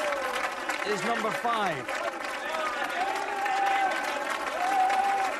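A crowd at a strongman contest claps and cheers under an excited announcer's commentary, the applause forming a steady wash behind the voice.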